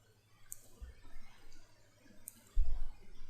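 Two sharp, faint mouse clicks about two seconds apart on a computer as BitLocker is switched on for a removable drive, set against quiet room tone with a soft low thump near the end.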